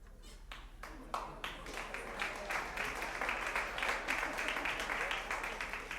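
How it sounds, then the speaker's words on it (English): A small audience at an intimate Sofar Sounds Rochester house concert claps, starting with a few scattered claps that swell into steady, moderately loud applause over a low constant hum. "I'm getting applause for that."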